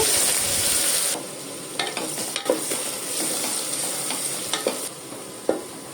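Finely chopped onion frying in a pan for a goat head curry, a steady close sizzle with occasional scrapes and stirring clinks, no talk.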